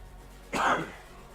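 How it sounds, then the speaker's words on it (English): A single short, rough cough close to the microphone, standing out against a quiet background. "Excuse me for coughing."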